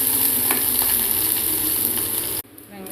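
Onions, garlic and dried red chillies sauté in hot oil with a loud, continuous sizzle and light stirring, cutting off abruptly near the end to near silence with a faint residual hiss.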